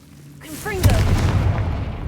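Casting Confringo in Hogwarts Legacy unleashes a fire-blast explosion: a rising whooshing sweep builds into a heavy, close boom that sustains as a dense rumbling roar.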